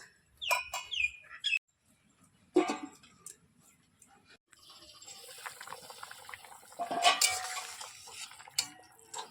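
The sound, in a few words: adding water to fried masala and covering the pot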